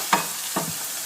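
Onions sizzle in a pan for a basic curry base, with two quick scraping stirs of a spoon breaking through a steady, close frying hiss.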